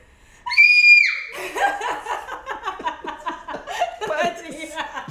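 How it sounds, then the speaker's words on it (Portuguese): A female singer lets out a loud, sustained scream for about a second, then breaks into continuous chuckling and laughter that fill the rest of the moment. "Você consegue dar esse grito?"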